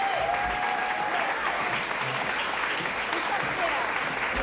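Sustained audience applause at a Dancing With The Stars of Auburn event, dense, even clapping from a crowd filling the whole stretch with a faint whistle at the start.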